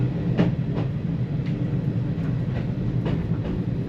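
Steady rumble of a passenger train running on rails near Wolverton, heard from inside a carriage, with periodic clicks and knocks from the wheels over track joints.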